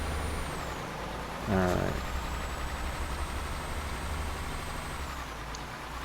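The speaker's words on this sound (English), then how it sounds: "And it's so loud, it's like I just hear like a gigantic engine." A truck engine in Euro Truck Simulator 2 drones loudly and steadily throughout, with a brief hissing burst near the start and someone speaking briefly over it.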